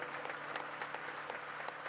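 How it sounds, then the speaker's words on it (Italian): A live audience claps for a performer at a concert presentation, a steady mid-distance patter of many hands held at an even level for a couple of seconds. "io vi chiedo un applauso grande"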